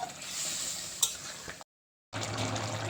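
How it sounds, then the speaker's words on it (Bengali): A spoon stirs chicken makhani curry in a pan after a little water is added. The stirring is a soft, steady scraping with a faint sizzle, broken by a short silent gap. "দিয়ে ভালো করে মিক্স করে নেব"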